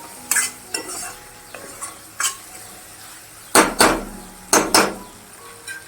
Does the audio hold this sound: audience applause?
no